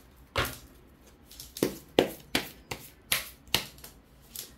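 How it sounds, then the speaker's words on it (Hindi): Tarot cards being reshuffled by hand, a series of about seven crisp riffling bursts at a steady, unhurried rhythm, close and fairly quiet. "ये काफी सारे कार्ड्स आ गए हैं, सो मैं दोबारा शफल करती हूँ"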